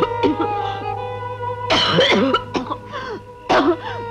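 A woman coughs badly in a 1981 Bollywood film scene. There are harsh, close bursts of coughing in several fits, strained and throaty, over a steady low background hum.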